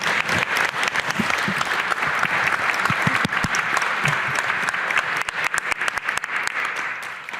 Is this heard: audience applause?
yes